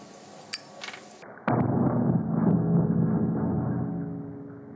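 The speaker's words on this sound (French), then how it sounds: "Il immerge ensuite un pétard allumé" A lit firecracker goes off underwater in a pool, heard as a sudden loud muffled thump followed by a rumbling, fizzing wash that slowly fades.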